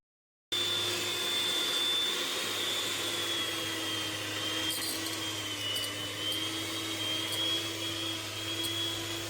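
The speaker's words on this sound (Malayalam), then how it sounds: "അപ്പോൾ ഞാനിങ്ങനെ എഗ് ബീറ്ററിൽ ഇത് നല്ല രീതിയിലൊന്ന് ബീറ്റ് ചെയ്തെടുക്കാൻ പോവുകയാണ്." An electric egg beater whips cream cheese, a steady, continuous motor whine that starts abruptly and holds an even drone with no voices.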